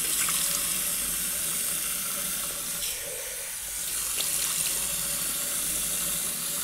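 A bathroom tap runs steadily for rinsing the face, a continuous close hiss of flowing water that dips briefly midway as hands interrupt the stream.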